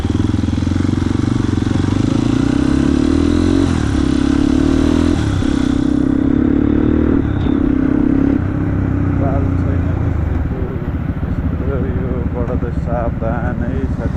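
A dirt bike engine drones loudly and close, its pitch stepping up and down as the rider shifts and throttles, then easing to a rougher idle-like rumble near the end.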